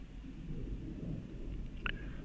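A low, steady rumble of thunder rolls on in the distance, with a brief higher-pitched blip near the end.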